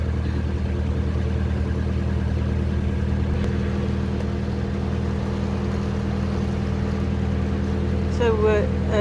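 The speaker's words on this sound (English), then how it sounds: "I think we've got something around the prop because the engine note suddenly changed" Steady, low diesel engine throb of a narrowboat on the Coventry Canal, something fouling its propeller, with a heavy rhythmic thrum and shake, close and constant, with a brief voice near the end.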